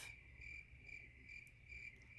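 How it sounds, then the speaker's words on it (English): Crickets chirp in a steady pulsing trill, quiet and somewhat distant, repeating rhythmically with no talking. "The crickets are chirping."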